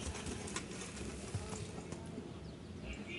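Horse hooves clip-clop in a steady rhythm in the medieval video game Kingdom Come: Deliverance, faint and continuous, with soft ambient bird calls in the background.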